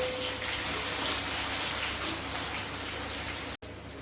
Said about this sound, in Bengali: এখন এই তেলের মধ্যে পেঁয়াজ দিয়ে দেবো